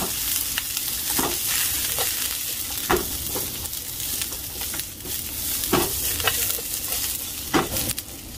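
Vegetables for yakisoba stir-frying in a hot pan, a loud continuous sizzle with repeated scraping and tossing strokes of the utensil, close and without talk.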